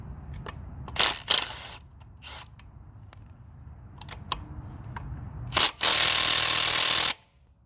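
A Milwaukee impact gun working on an engine during a hesitation and engine-noise repair, firing several short loud bursts and then one long sustained rattling run, with quieter handling noises between; no talking.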